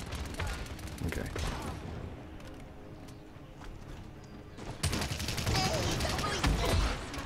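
Gunfire in the hero shooter Paladins during a payload match, bursts of rapid shots crackling near and loud, heaviest in the final seconds, with a quieter stretch of game noise in the middle.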